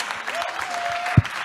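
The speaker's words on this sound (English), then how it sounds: "Can we please give them a huge round of applause?" Dense clapping from an audience, an even wash of applause with a brief steady tone and a sharp thump near the end.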